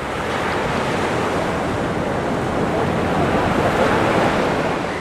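Sea surf on the southern coast where stilt fishermen work, a loud, continuous roar of breaking waves mixed with wind buffeting the microphone, with no voices.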